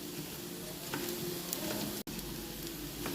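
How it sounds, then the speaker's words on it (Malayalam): Onion, curry leaves and ginger fry with tempered mustard seeds in a pan on the stove, giving a steady, close sizzle with faint stirring sounds and one brief dropout. "കടുക് താളിച്ച് ഉള്ളി, വേപ്പില, ഇഞ്ചി ഒക്കെ അടുപ്പത്ത് ചട്ടിയിലിട്ട് ഫ്രൈ ആയിക്കൊണ്ടിരിക്കുന്നതാണ്"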